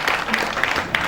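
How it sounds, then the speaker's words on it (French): Audience at a bank product launch event claps steadily, a brief, dense patter of many hands at moderate loudness. "je vous demande d'applaudir très très fort"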